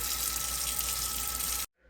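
Water from a kitchen tap runs into a drink mix in a steady, close stream that stops abruptly just before the end.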